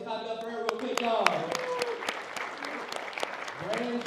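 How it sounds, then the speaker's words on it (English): Scattered audience clapping for a woman introduced at an industry talk, with individual sharp claps audible under voices that talk and call out over them. "Miss Deja Williams, clap it up for her real quick, y'all."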